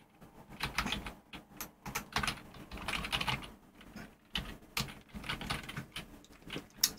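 Code is typed on a computer keyboard in quick, irregular bursts of clicking keystrokes, close and fairly quiet, with short pauses between runs.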